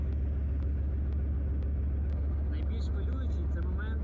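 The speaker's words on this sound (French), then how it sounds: "Le moteur démarre avec un son..." A tank engine runs at night before moving off, a heavy, steady low rumble that drones throughout at close range, with a voice speaking over it.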